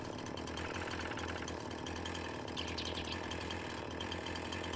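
A chainsaw in the Farming Simulator 19 video game runs with a steady, buzzing engine drone throughout, constant in level and unaccompanied by speech.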